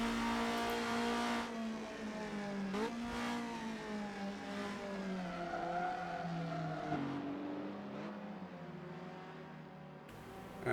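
A car engine in a driving video game, running behind a Porsche 550, rises and falls in pitch through several gear changes and revs, loud and close, with faint tyre squeal.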